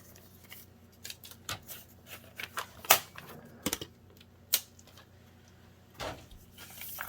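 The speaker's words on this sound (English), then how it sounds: "I'm going to pull out my trimmer, and at the 9 1/2, my sack is a little too long, so I'm just going to trim that little bit of excess off" A paper trimmer slices excess length off a paper bag, giving a few sharp, close clicks and brief swishing cuts separated by quiet pauses, with no talking.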